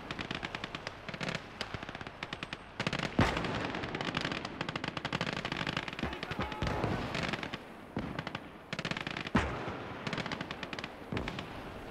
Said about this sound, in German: Flak und Panzerabwehrkanone schießen.